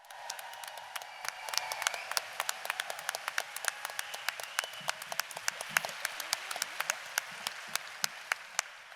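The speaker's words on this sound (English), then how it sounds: "Could you please give a massive round of applause, a really huge, warm FiLiA welcome for Susan Hawthorne" Audience applause welcoming poet Susan Hawthorne to the stage at the FiLiA 2022 feminist conference, a steady wash of clapping with sharp individual claps standing out throughout, moderately distant in a hall.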